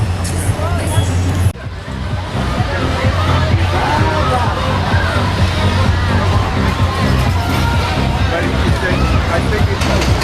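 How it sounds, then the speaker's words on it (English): A dense crowd murmurs and chatters without a break on the North American Midway at the Big E fair, the Eastern States Exposition, with loud, close babble layered over low rumbling from the rides and vehicles. "a walk through the North American Midway with all the different rides"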